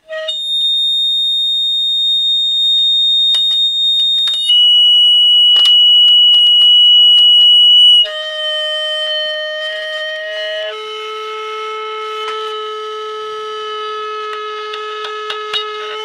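A piezo pickup stuck onto the speaker of a cheap Fix Price guitar amp feeds back into loud, steady, piercing squeal tones. The pitch jumps to a new note several times over about sixteen seconds, with no talking.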